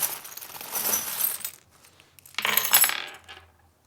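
Small metal divination charms (breloques) clinking and rattling as they are handled, two clusters of light jingling close by with a quiet pause between them.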